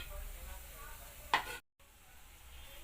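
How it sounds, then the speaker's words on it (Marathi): Whole cumin, black pepper and cardamom hitting three spoons of hot oil for chole, a steady sizzle with one sharp crackling burst before the sound cuts out briefly and the quiet frying returns. "तेल गरम झालं, त्याच्यात मी जिरा, मिरी आणि वेलची घालते।"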